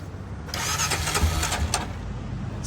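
A fire-damaged Honda 400ex quad running with the choke on, its engine catching after a brief quiet start, then rough and close with uneven sputtering pulses throughout.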